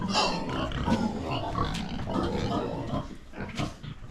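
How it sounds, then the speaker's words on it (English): A pregnant pig in an African village grunts and snuffles repeatedly up close, rough low grunts mixed with squeals and other farm noise, continuous throughout. "This is actually our pregnant pig."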